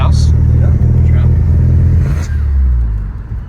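Volkswagen car driving with the engine revving, a loud low rumble heard from inside, rising and easing over a few seconds while people talk over it.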